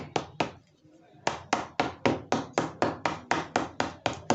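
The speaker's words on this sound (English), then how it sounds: "And sometimes you can also use your hammer to hit this area." Hammer striking a shoe during shoemaking: a brisk series of sharp, close taps, two blows, a short pause, then about a dozen evenly spaced strikes in a steady rhythm.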